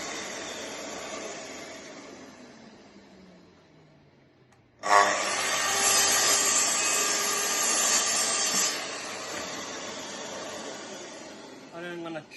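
A chop saw spins up and cuts for about four seconds, a loud harsh whine jumping in abruptly, then dropping back to a quieter rundown over a low background hum.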